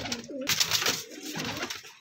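Pigeons cooing near the microphone, several soft throaty coos in quick succession, among high-flying pigeon chicks offered for sale in Faisalabad.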